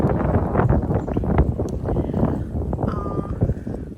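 Gusty wind buffets the microphone with low rumbling blasts, loud and close, with brief rustling and a faint tonal whistle partway through.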